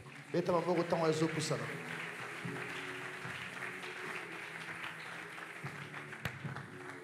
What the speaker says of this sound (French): Acclamez alors qu'elle avance